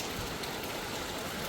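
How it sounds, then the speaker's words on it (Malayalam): Rain falling on a rainy day in Kerala, a dense, even hiss of steady downpour with no breaks, heard alone at a moderate level. "നൊസ്റ്റാൾജിയ ഫീൽ ചെയ്യുന്ന ഈ മഴ"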